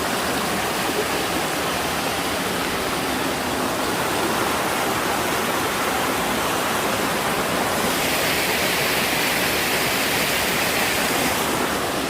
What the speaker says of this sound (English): This is Comer Creek Falls.